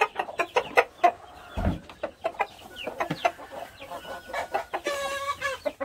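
Chickens in a coop cluck in quick uneven bursts close by, with a brief thump partway through and a longer drawn-out call near the end.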